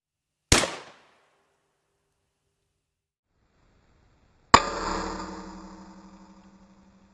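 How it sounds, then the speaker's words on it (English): A shotgun loaded with birdshot fires from a non-choked barrel at pork ribs and a roast 40 feet away. A sharp, close report with a brief tail sounds after a short tick and a long pause. "we're gonna shoot this pork ribs and roast"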